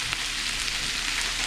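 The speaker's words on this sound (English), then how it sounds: "The popping you hear is actually from our other pan." Food fries in a nearby pan while steak burrito bowls are cooked, giving a steady bright sizzle with light scattered pops, no voices.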